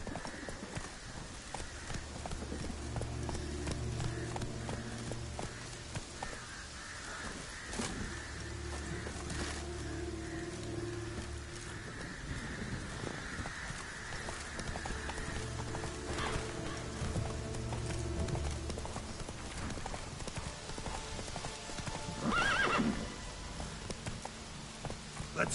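Horse hooves clip-clopping steadily in The Witcher 3 on PS5, a continuous close rhythm of hoofbeats with game music and ambience underneath and a brief whinny-like swell near the end.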